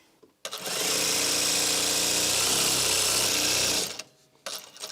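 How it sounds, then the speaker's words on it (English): Sewing machine stitching along the long edge of a pleated fabric face mask, a loud, steady whirring run of about three and a half seconds that starts and stops abruptly, with quiet handling sounds around it. "Leave the needle in, lift the foot, turn, and we're now sewing along that long edge."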